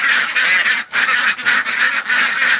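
Domestic ducks honk and quack loudly and almost continuously in a raucous nasal chorus, with only brief dips between overlapping calls, heard close with no talking.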